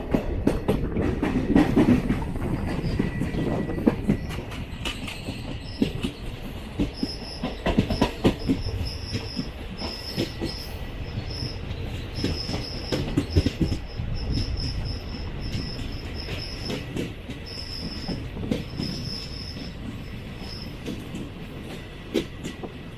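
The 22628 Trichy Intercity Express runs on the Trivandrum to Trichy line, heard from inside an AC chair car as a steady rumble with rhythmic clickety-clack of wheels and occasional high squeals, continuous and close, with no talk.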